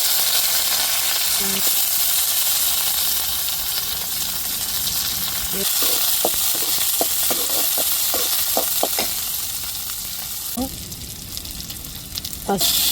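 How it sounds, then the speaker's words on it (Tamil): Mustard seeds, chopped onion and curry leaves sizzle steadily in hot oil, a continuous close frying hiss with a run of sharp seed pops and crackles in the middle, no talking. "இப்போ கடுகு சேர்த்துக்கிடுவோம் வெங்காயம் சேர்த்துக்கிடுவோம் கருவேப்பிலை சேர்த்துக்கிடுவோம்"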